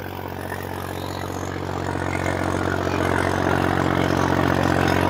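Solis 5515 tractor pulling hard in a field demo competition, a loud steady diesel drone with a strong low rumble that swells and grows louder over several seconds, close by with no talking.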